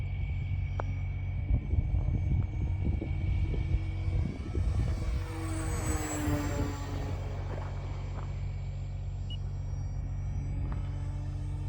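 A 3D printed RC Sportster plane with a 1250 kV motor at about 60% throttle passes at speed: a steady buzzing drone over wind rumble swells and shifts in pitch as it goes by midway, then settles into a constant hum.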